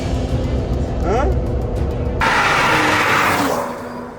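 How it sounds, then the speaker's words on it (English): A BMW fitted with a 2JZ engine on a cool-down drive after hot laps, its engine droning steadily up close and swelling louder midway, with a voice briefly audible. "Now we're just going on a cool down drive in the car."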